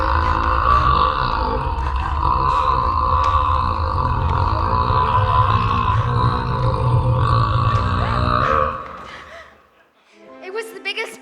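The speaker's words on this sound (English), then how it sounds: "It was the biggest burp that I've ever heard." A long, huge, drawn-out burp rumbles loudly for about nine seconds in a stage-play setting, dropping off at the end before a brief burst of laughter or voices.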